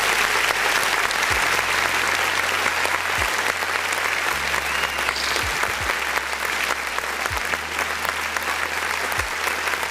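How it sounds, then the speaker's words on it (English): Steady, dense applause from an audience keeps going throughout, loud and even, with faint low musical tones underneath. "Can we clap for that?"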